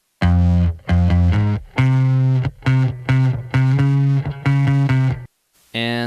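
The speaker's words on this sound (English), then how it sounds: "And the spring reverb is just the wet." Distorted bass line drenched in wet spring reverb plays loud repeated notes in a rhythmic riff, stopping briefly before a short brighter burst at the end, with no voices.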